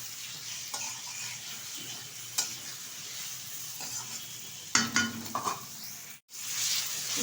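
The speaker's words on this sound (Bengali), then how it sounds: "এবার আমি উপকরণগুলোর সাথে বেগুনটা নেড়ে চেড়ে নেবো বেশ কিছুক্ষণ সময় নিয়ে" Eggplant cooking with spices in a pan, stirred with a spoon: soft sizzling frying under intermittent scraping and clinks against the pan, with a louder burst of stirring near the middle and a brief silence near the end.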